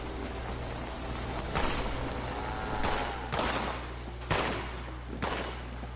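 Repeated gunshots in Fallout 76 on PlayStation 4, four or five sharp cracks spaced about a second apart over a steady low hum, moderately distant and without talk.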